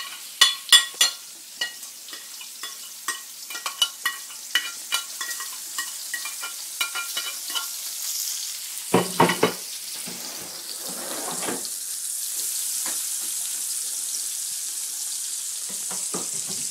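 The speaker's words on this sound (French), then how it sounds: "Oui, mon huile est prête. Je mets les champignons." Mushrooms are added to hot oil in a pan while cooking pork chops, preceded by a run of sharp clinks and taps, then a steady soft sizzle rises and continues.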